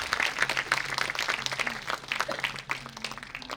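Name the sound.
audience applause for Colonel Pickering's actor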